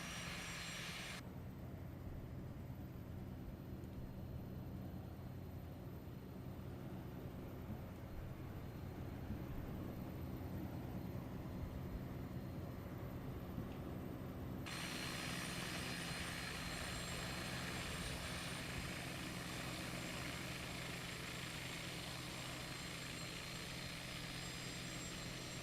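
An H225 helicopter flies in Microsoft Flight Simulator 2024, a steady dense rotor and turbine drone that runs unbroken throughout, fairly quiet, no talking.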